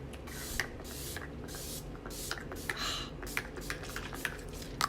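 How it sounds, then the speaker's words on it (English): Makeup setting spray misted from a pump bottle, several short quiet hissing bursts in a row, close and soft with no talking. "so then I'm gonna use my setting spray"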